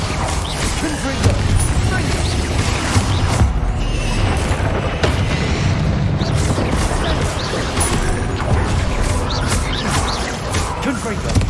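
Confringo spell blasts in the Hogwarts Legacy video game, a dense, continuous barrage of booming magical explosions and crashing impacts layered over constant game noise, with shouted spell names mixed in throughout.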